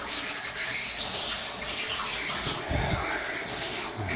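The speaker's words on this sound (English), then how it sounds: "And, I'm just filling the tank up right now." Water running into a tank that feeds the heating coil of a Goodman hydronic air handler, heard as a steady close rushing and splashing flow with no speech.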